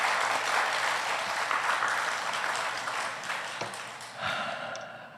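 Loud, vigorous applause from a church congregation at a Sunday afternoon service, honouring a couple; dense clapping gradually thins and softens toward the end, with a brief swell near the close.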